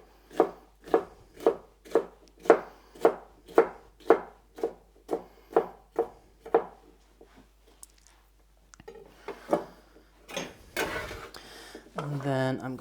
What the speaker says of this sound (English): turn it around and cut across into little chunks